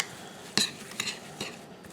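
A spoon stirs blackberry crumble mixture in a bowl, giving a few light scraping clinks at irregular intervals over quiet background hiss.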